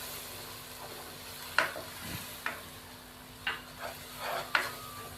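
Spices and tomatoes fry in a pan for a dhaba-style dal chana, with a low, steady sizzle broken by several sharp stirring scrapes and clinks of a spoon against the pan at irregular intervals.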